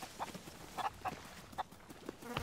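Golden chicken in the pirate video game Sea of Thieves, clucking in short, scattered bursts over a busy background of game ambience.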